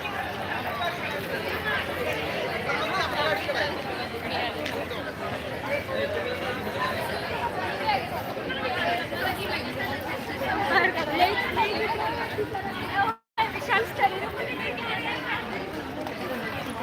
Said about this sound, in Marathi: इथे तुम्ही गर्दी पाहू शकता प्रचंड गर्दी आहे